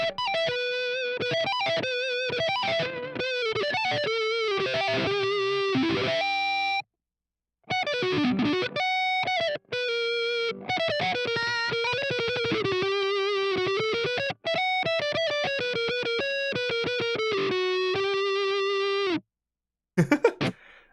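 Distorted electric guitar on the neck pickup through an Orange Rockerverb amp and Boss GT-1000, played with a warm, rounded tone in quick melodic runs and sustained notes, loud and continuous with a couple of brief pauses.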